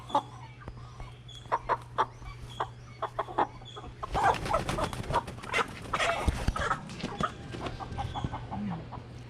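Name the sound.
Cornish Cross chicken clucking while held upside down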